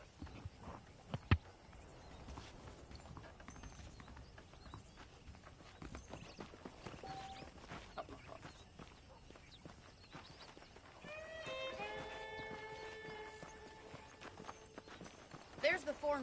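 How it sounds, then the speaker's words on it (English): Horse hooves in the video game Red Dead Redemption clip-clop in a steady walking rhythm, fairly close, with a snort and a brief whinny-like tone later on. "The horses are saddled up over here."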